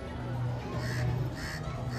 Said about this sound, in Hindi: का कौवा देख रहे हो भैया?